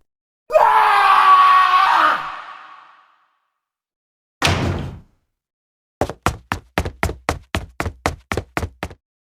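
A man screams in horror for about two seconds, loud and drawn out, then a short burst of noise follows and a rapid run of about a dozen sharp knocks, like fists pounding on a door, in a supernatural horror story setting.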